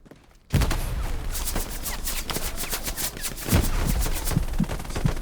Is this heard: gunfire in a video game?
yes